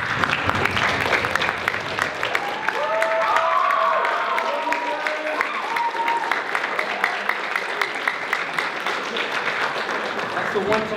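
A banquet audience gives steady, dense applause with cheering and whoops for the parents. The clapping is close and continuous throughout, with voices shouting over it.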